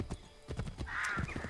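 Horse hooves clip-clop in the video game Assassin's Creed 3, a quick run of close, crisp hoof strikes joined by a short neigh near the end.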